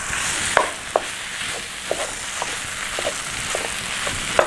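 Hamburger meat browns in a pan with a steady hiss of sizzling fat while a spatula stirs it, giving a string of light scraping taps at a regular pace with no talking.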